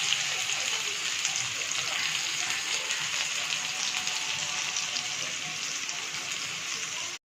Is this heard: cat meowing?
no